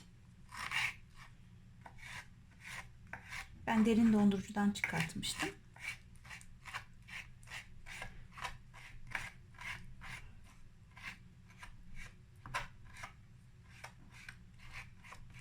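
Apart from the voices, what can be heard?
knife chopping roasted eggplant into small pieces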